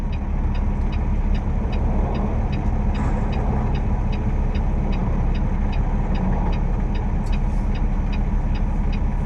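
Steady road roar from inside a moving car, a dense continuous rumble and tyre noise with faint regular ticking, no talk.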